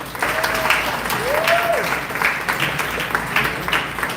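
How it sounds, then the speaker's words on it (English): A round of applause from an audience welcoming a speaker at an event, continuous clapping at moderate loudness with a few faint voices and tonal sweeps mixed in. "please join me to welcome with a round of applause"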